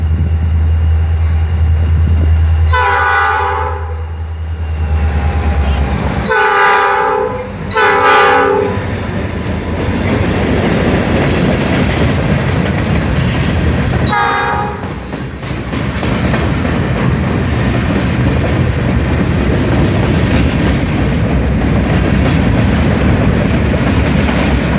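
A Norfolk Southern local mixed freight train passes close by a home, with several loud blasts of its horn over a continuous heavy rumble and clatter of rolling cars.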